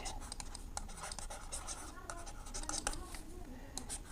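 Pen writing a math answer on paper during a lesson on sets and functions, a close run of quick scratchy strokes and taps with brief pauses.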